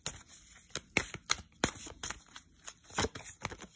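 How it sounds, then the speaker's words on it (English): Tarot cards shuffled and cut by hand, a rapid series of crisp papery riffles and slaps in an uneven rhythm, close up and clear with no talking. "Just gonna cut the deck."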